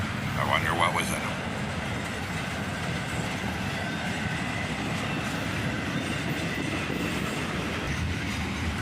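A CSX freight train of tank cars rolls past close by, a loud steady roar of wheels with clickety-clack and occasional squeal, a brief higher tone near the start.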